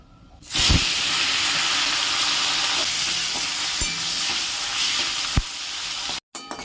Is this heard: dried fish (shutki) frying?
yes